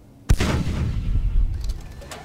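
A modded battlecannon fires in Space Engineers against a heavy armor block: one sudden loud boom with a long rumbling decay, then softer crackling impact sounds near the end.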